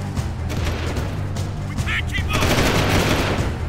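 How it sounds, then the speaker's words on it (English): Rapid video game gunfire from Jak 2 rattles continuously at close range, dense and loud throughout with a brief burst of higher-pitched noise partway through. "Can you, like, stop shooting me?"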